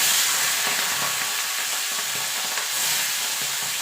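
Shrimp rubbed with salt and turmeric frying in hot oil, a steady dense sizzle throughout with faint stirring under it, close and loud.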